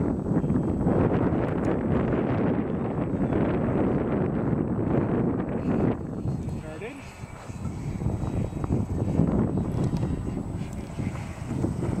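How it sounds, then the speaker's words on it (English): A strong wind gust of about 25 to 30 mph buffets the microphone outdoors while a Multiplex Fun Cub model plane flies, a loud continuous rumbling roar that surges and eases, with people talking over it. "It's a 25, 30 mile an hour gust right there."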